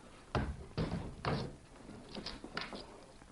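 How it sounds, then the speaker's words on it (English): A jail cell block door being opened, heard as a series of close metallic clunks and knocks followed by lighter clicks and rattles, with no talking. "Liz, open the cell block door."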